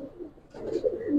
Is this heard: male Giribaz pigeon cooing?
yes